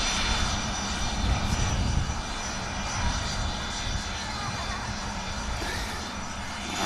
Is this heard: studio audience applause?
no